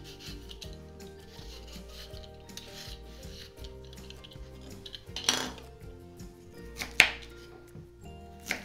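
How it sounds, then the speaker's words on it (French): Peeling a sweet potato in a home kitchen, a steady scraping and rubbing of the peeler against the tuber with light clinks from utensils, capped by two sharper knocks near the end. "Donc je vais éplucher ma patate douce."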